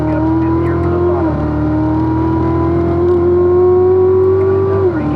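Race car engine on track, a steady loud in-cabin drone holding a high pitch, dipping briefly on a shift then climbing again as the car accelerates, with an instructor's voice faintly underneath.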